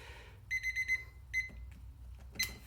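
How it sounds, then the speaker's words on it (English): A short run of five quick electronic beeps, then a single beep and a final one, bright and clear over a low background rumble. "on the beeps, you can begin"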